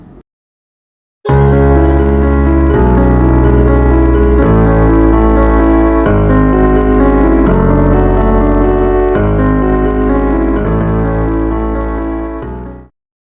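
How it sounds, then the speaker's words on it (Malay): A piano plays loud, sustained chords alone, several rich notes ringing together before the final chord fades out. "Itu adalah bunyi piano."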